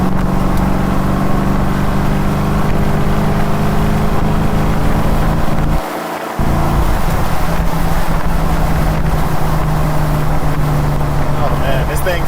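Ford 4.6L four-valve V8 car cruising in fourth gear near 2,500 RPM, a steady loud engine drone with road noise throughout and a brief dip midway, while someone talks over it.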